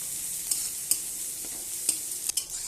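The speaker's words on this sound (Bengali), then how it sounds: "এবার আমি ভালোভাবে পেঁয়াজটাকে লাল করে নেব।" Onions frying with green chilli and five-spice seeds in a pan, a continuous bright hiss of sizzling oil with a few sharp spoon taps scattered across it, close and steady.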